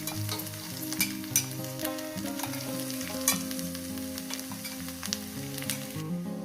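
Paste of small river chuna fish and mustard greens frying in a pan on the gas, a steady close sizzle with occasional sharper crackles, heard over background music and no speech.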